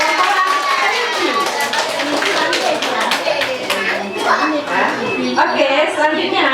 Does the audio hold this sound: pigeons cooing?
no